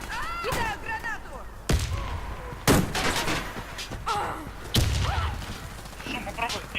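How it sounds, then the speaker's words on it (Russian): A thrown grenade explodes amid gunfire in a multiplayer shooter video game: several heavy, close booms punctuate rapid shots, with players' voices talking over the combat. "Кидаю гранату!"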